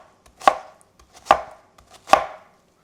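A knife chops through a very large onion on a cutting board, three distinct sharp thuds evenly spaced about a second apart, close and clear with silence between.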